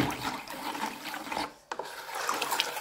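Baking soda being stirred into warm water, a soft continuous scraping and swirling with a brief pause midway, close and quiet with no talk.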